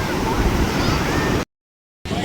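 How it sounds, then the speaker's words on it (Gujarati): Sea waves break on the shore at Somnath, a loud, dense, continuous surf roar close to the microphone that drops out abruptly for about half a second, then returns. "અમે દરિયે છીએ. દરિયા આવી ગયા છે."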